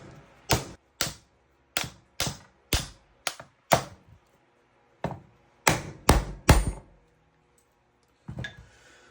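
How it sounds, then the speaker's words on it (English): A rawhide mallet strikes a Smith & Wesson revolver to free its side plate, about a dozen sharp, close knocks in two quick bursts separated by a short pause, with no talking. "My tried and true method working on Smith & Wessons is just a rawhide mallet to the opposite side."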